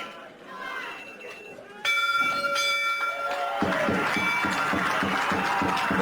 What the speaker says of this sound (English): As the siren sounds in the background.